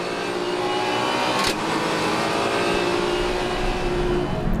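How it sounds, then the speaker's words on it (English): Race cars in a Supercar Challenge race, among them a BMW, roar past on track with a steady, loud engine drone that swells briefly as one car accelerates. "Looking back from Ferry Monster's view, that is Bob Herber's BMW"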